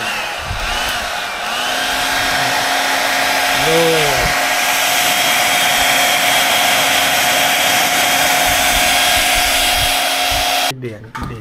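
A blower runs steadily at close range during DIY accessory work on a Toyota Hilux, giving a continuous high whine with a brief pitch dip midway, then cutting off abruptly near the end.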